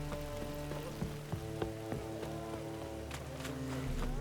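Steady rain from The Witcher 3: Wild Hunt, a constant hiss with scattered drop-like taps, layered over sustained musical tones throughout.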